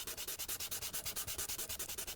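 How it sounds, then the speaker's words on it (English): Sandpaper of 180 grit rubbed over an acrylic panel in quick, steady back-and-forth strokes, a close, regular scratchy rasp of about eight strokes per second with no talking. "to even out these bigger areas, I'm using a little bit of 180 sanding paper"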